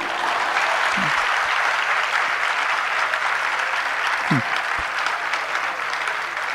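An audience at a sermon by a spiritual teacher in Jabalpur gives steady, continuous applause, even and sustained throughout, with a faint voice briefly audible beneath it.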